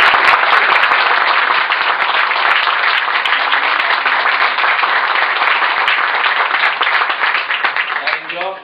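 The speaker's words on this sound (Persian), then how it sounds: "لطفا تشویقشون" An audience claps loudly and continuously at an indoor gathering, a dense steady burst of applause that fades out at the end.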